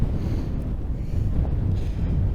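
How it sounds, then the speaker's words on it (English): Strong wind buffets the microphone at the Athabasca Glacier beside rippling water, a steady loud low rumble with gusting swells throughout. "It's very windy here."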